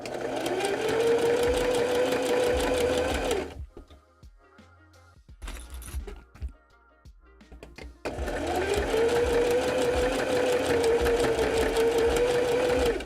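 Sewing machine stitching a puppet seam, a steady close whirring run that stops for a few seconds of quiet handling and clicks, then starts up again and runs steadily to the end.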